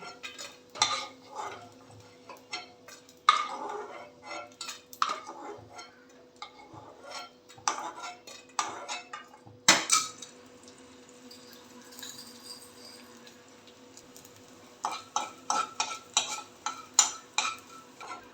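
Edible gum (dink) fries in a kadhai for methi ladoo. A faint oil crackle runs beneath repeated sharp scrapes and clinks of a spoon against the pan, arriving in irregular bursts with pauses between them.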